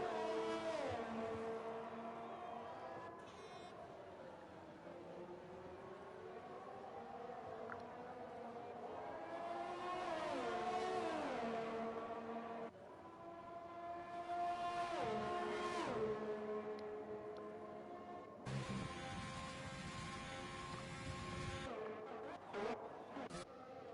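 A Ferrari Formula 1 car in the racing game F1 2020 at Belgium, its engine whining through rising and falling gear-change sweeps, with a sudden shift in tone near the end as the race continues.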